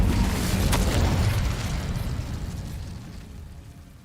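Incendio fire spell cast in Hogwarts Legacy, a loud, rumbling, explosive burst of flame that swells over the first second and then slowly fades away, with no voices over it.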